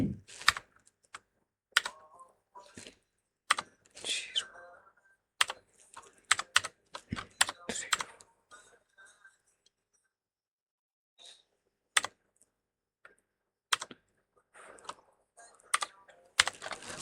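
Computer keyboard keys pressed in quick clusters as a phone number is typed, sharp close clicks arriving in bursts with short pauses and a longer quiet gap partway through.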